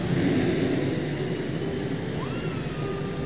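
An XFA-33 jet taking off in the Ace Combat 7 video game roars with a loud, steady broadband engine rush throughout the short stretch, a rising tone sweeping in near the end.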